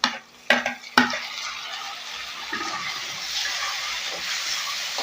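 Chopped onions for a banana stem kootu are mixed in a hot pan: a few sharp utensil knocks at first, then a steady hissing sizzle with light scraping, close by and without speech.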